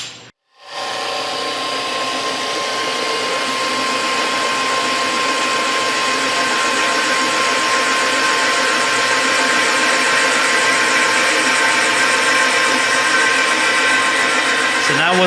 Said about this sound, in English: Just get a little hand drill out and just